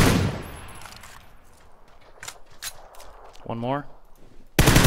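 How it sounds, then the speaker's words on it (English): Gunfire in a multiplayer shooter game crackles in scattered sharp shots and short bursts, some near and some distant, with players talking over the fighting. "I don't even know who's shooting at me"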